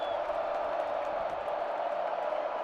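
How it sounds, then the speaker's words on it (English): Stadium crowd at a college football game between BYU and Texas Tech in Lubbock: a steady, distant roar of many voices that holds evenly throughout, with no distinct cheers or claps standing out. "Crowd gets loud here in Lubbock."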